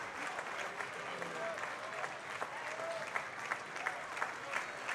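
Baseball crowd in the stands slow clapping, with regular claps spaced about half a second apart over a steady murmur, heard under an announcer's talk.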